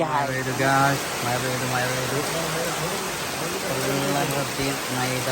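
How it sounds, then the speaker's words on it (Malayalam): Heavy rain pours down in a constant, dense hiss while a person talks over it. "വല്ലാത്തൊരു മഴയാണ്"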